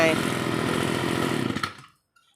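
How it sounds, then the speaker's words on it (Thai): A used Kawasaki TH34 brush cutter engine runs close up with a loud, steady buzzing drone, then cuts off abruptly and falls silent. "ใครต้องการที่เครื่องแรงๆเสียงนุ่ม ๆ แล้วก็ดึงเบาๆอย่างเงี้ยนะ"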